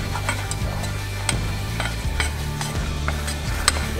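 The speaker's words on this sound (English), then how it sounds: "And really start to stir that around" A spoon stirs flour into hot melted butter for a roux in a pan, steady scraping and stirring strokes with a few sharp utensil clicks over a low sizzle.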